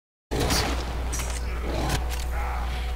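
Enemy gunfire in the video game Warframe erupts suddenly after a brief silence, a dense, booming barrage of shots and impacts that rolls on continuously at high intensity.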